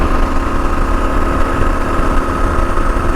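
A Gen 3 Kawasaki KLR 650 engine holds a steady 4,500 RPM at road speed, a loud, even droning hum that runs unbroken with no talk.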